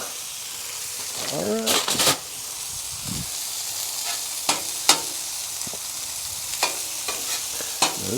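Beef patties for a patty melt fry on a hot surface, a loud continuous sizzle punctuated by sharp scraping clicks as the patties are pressed down, while someone speaks briefly.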